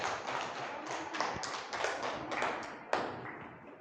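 A school class clapping hands after a group presentation in an art lesson, a dense patter of many hands that stays steady and fairly close for several seconds, with one sharper clap standing out near the end.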